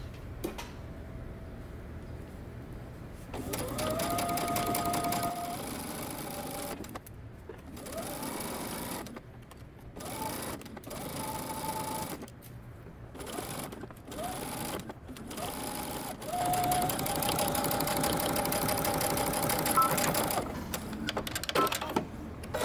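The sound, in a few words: sewing machine stitching a collar onto a knit top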